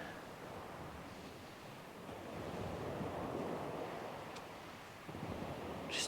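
Surf washing onto Chesil Beach at sunrise, a steady broad roar of breaking waves rising and falling, with some wind across the microphone and no voices.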